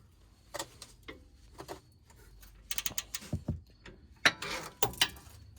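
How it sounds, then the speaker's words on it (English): A ratcheting breaker bar clicks on a 17mm bolt during rear brake pad and rotor work on a 2005 BMW X5 (E53). Close, crisp ratchet clicks arrive in short irregular bursts, with quiet gaps between strokes. "I'm going to use my favorite tool, ratcheting breaker bar"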